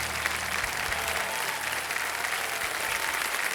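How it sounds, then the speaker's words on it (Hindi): A studio audience on the Hindi quiz show KBC 2025 applauds a contestant, a full, even roar of clapping from many people that holds steady for several seconds without speech. "तालियां बज जाए इनके लिए"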